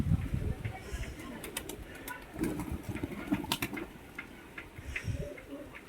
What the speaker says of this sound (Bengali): এর ভেতরে আমরা পায়রা খাওয়াচ্ছি